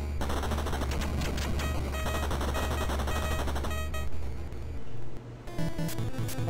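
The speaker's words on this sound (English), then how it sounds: "Oh damn, tank battle." Rapid machine-gun fire rattles through a tank battle in a video game, loud and continuous for several seconds before briefly thinning out and then resuming.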